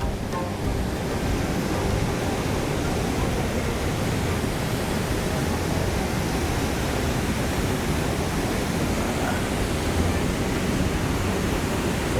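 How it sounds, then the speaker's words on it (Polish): A jungle waterfall in Cameroon, heard from directly beneath it: a loud, steady, dense roar of pouring water that fills the whole clip with no voices. "jesteśmy pod wodospadem"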